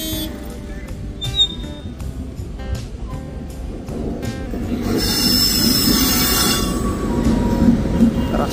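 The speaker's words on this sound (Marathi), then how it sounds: "मालगाडी येते." A goods train rolls past a railway crossing near Lasalgaon on a cold day, its wheels clacking rhythmically and then squealing loudly as the passing rumble grows and stays close and continuous.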